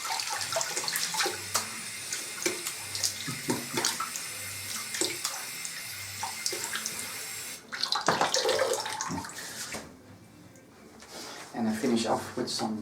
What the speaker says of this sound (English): I'll rinse off with cold water.